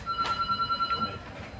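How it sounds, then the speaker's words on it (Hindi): A landline telephone rings indoors in a repeated ringing pattern of steady bell tones, moderately loud, with faint room noise around it. "फोन उठाइए लैंडलाइन"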